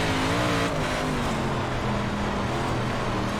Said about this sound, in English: he's getting on the gas full throttle now